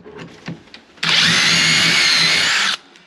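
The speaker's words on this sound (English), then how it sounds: "pre-drill so I don't split my boards" A power drill pre-drills holes in wooden boards while a closet shelf and pole are installed. After a few light taps, one loud, close, whining burst of about two seconds cuts off sharply.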